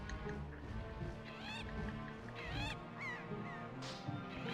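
Birds in Zelda: The Wind Waker give repeated honking, squawking calls over a steady game music bed, with several sweeping cries spread through the stretch.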